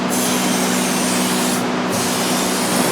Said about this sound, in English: Gotta get that adhesive sprayed in there.